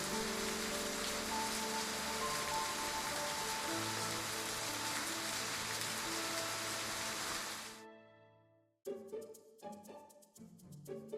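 Steady rainfall in the game Love and Deepspace patters across surfaces, then cuts off abruptly, giving way to soft musical notes.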